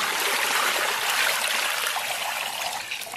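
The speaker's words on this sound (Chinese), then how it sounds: "然后给里边稍微来点水" Water poured into a cooking pot holding two steaks for a clear-braised beef dish, a steady close rushing splash that runs without a break and eases slightly toward the end.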